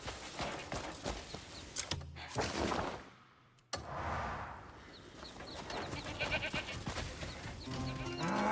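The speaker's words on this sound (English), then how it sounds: "So you're my wild goat." Wild goat bleating in the video game Crimson Desert, set amid a busy, dense game soundscape with constant background noise and effects; the animal calls sit within the mix rather than standing out alone.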